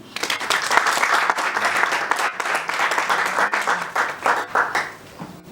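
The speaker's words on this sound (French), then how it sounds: "je vous demande d'accueillir sous une salve d'acclamation Monsieur Armel Dunque" An audience welcomes a speaker to the stage with lively, close applause whose individual claps stand out, swelling and dipping unevenly over several seconds.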